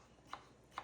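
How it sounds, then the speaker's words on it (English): A knife cuts peeled potatoes on a board, making two faint, crisp taps about half a second apart against a quiet kitchen background. "We're cutting up these potatoes."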